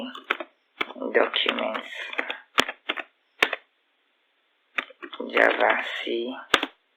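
Keys tapped on a computer keyboard to enter a command in a command prompt: a few sharp, isolated clicks come through between stretches of someone talking.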